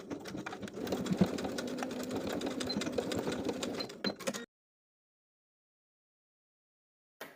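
A sewing machine stitches the top fold of an overall strap, a close, steady mechanical whir running for about four seconds before cutting off into silence, followed by a brief final noise.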